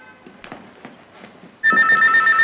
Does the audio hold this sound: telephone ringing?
yes